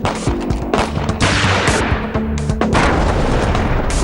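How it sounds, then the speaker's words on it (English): Dense, rapid gunfire with repeated shots and bursts crackles continuously during violent mob clashes on a 268-acre plot of land in Mathura, loud and close throughout. "There were gunshots,"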